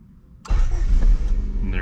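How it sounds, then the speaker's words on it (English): A 1990s Honda EF hatchback fitted with a main relay conversion cranks and fires into a loud, close idle after a brief quiet moment, the engine settling into a steady rumble. "all you need to do is start your car like normal"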